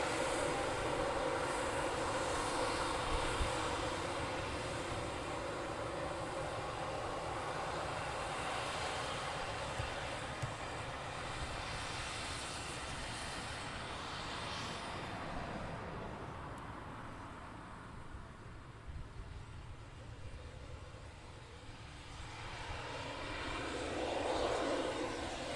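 A military jet taxis for departure at RAF Coningsby, a steady loud engine roar and whine holding for the whole stretch, dipping slightly midway and swelling again toward the end.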